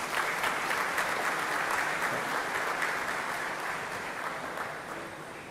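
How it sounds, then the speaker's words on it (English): A convocation audience at IIM Mumbai's 2025 ceremony claps in a full, sustained round of applause that stays even and close before easing slightly toward the end, with nobody speaking. "give him a big hand of applause"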